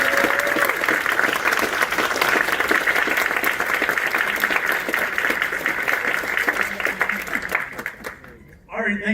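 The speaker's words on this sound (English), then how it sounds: "All right, folks, let's give Chloe one last applause." A crowd at Iowa State University (ISU) applauds activist Chloe Cole at the close of her talk, loud sustained clapping with cheering voices that fades abruptly at the very end.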